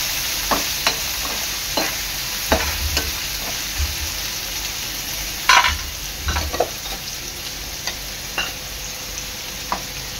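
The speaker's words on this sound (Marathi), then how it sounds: "लाल मिरची आणि बारीक चिरलेला कांदा. कांदा चांगला लाल होईपर्यंत शिजवून घ्यायचा आहे." Finely chopped onion with red chilli frying in a pan for a veg Kolhapuri dish, a continuous bright sizzle with scattered scraping stirs and clinks, close and steady without talk.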